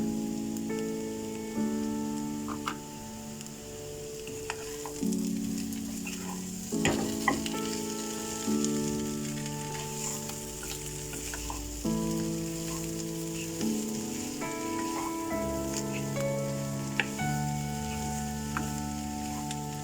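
Jeera aloo, cubed potatoes with cumin, cooking in a pan over a low flame, giving a continuous soft sizzle with repeated stirring scrapes and clinks, close and steady with music playing faintly behind and no talk.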